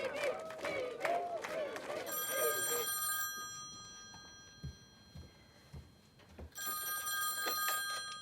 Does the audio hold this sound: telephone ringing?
yes